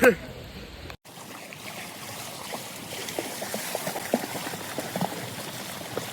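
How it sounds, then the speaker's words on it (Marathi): Rain falls steadily outdoors at a swimming pool, a dense, even patter with scattered louder drops, heard after a sharp cut at the start, with a voice talking over it. "वरती पाऊस चालू आहे आणि खाली सिमली"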